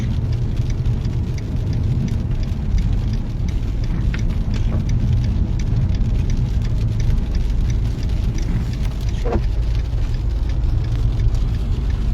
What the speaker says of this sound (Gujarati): આજે વરસાદ પડવાનો શરૂ થઈ ગયો છે